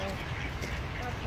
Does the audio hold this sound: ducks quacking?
yes